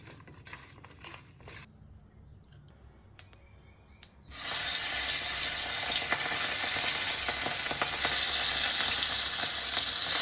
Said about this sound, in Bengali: এই মোরলা মাছগুলো দেখুন আমি হালকা করে ভেজে নিলাম